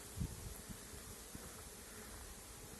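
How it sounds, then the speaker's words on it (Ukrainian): A honeybee buzzing in flight near sunflowers, a steady low drone over outdoor background noise with wind, faint and continuous. "бджола ще літає"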